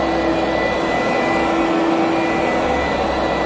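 A Bissell BG10 carpet cleaner runs with its solution switched off and only sucks up, giving a loud, steady motor whine and airy suction roar at close range.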